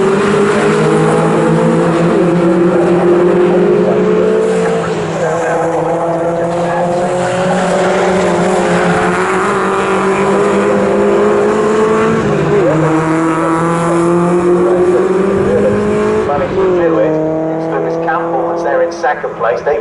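MG race cars race at Snetterton circuit in an MG Owners Club Championship race, their engines howling loudly and continuously with rising and falling revs as they pass near, under a commentator talking throughout.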